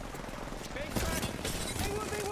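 Gunfire rattles through an Apex Legends match in a steady, dense volley, with a commentator's voice talking over it.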